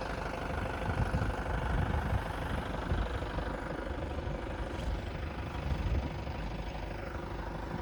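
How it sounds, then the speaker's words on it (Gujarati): A Mahindra Bolero hitched to a land-levelling rig loaded with four rotavators idles with a steady, fairly faint low rumble that runs throughout. "આ ગાડી ચાલુ કરી લીધી છે હમણાં"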